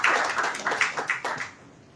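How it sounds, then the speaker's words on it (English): Brief audience applause at the curtain raiser ceremony of the first Goa Cashew Fest, a short round of clapping that fades out quickly. "A round of applause, ladies and gentlemen"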